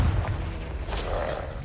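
A Confringo blasting spell explodes in Hogwarts Legacy, a low rumbling boom with a sharp burst bursting out near the middle and fading to a steady roar.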